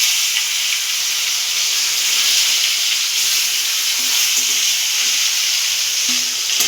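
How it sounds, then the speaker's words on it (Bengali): Tomatoes frying in hot oil left over from cooking pointed gourd, a loud, continuous close-up sizzle with a bright, crackling hiss that stays steady throughout. "দেখুন এই তেলেই আমি টমেটোগুলো দিয়ে দেবো।"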